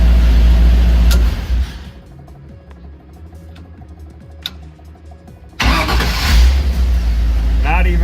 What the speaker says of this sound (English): Got the engine running beautiful with those heads on there